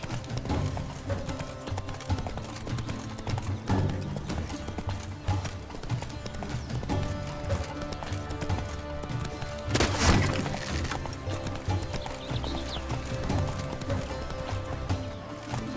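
Roach, the horse in The Witcher 3, gallops with steady clip-clopping hooves under game music, plus a sharp crash midway.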